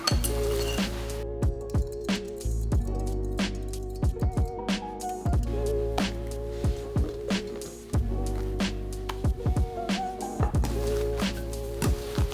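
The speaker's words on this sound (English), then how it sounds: "Oftentimes I like to use a whisk when I need to fold a lot of meringue into" A whisk folds meringue into pumpkin chiffon cake batter, making light, rhythmic clinks and soft scrapes against the bowl over a steady low background hum.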